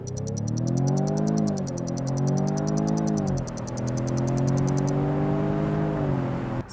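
Jaguar F-Type, the last combustion model, accelerating hard from standstill to 100 km/h: a loud engine note climbing steadily in pitch, dipping once at a gearshift before rising again, heard from inside with no talking.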